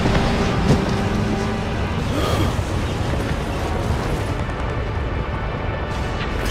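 A deep, sustained roar of an explosion in the animated series Skibidi Toilet Multiverse, a dense rumbling blast with crashing debris, loud and continuous throughout.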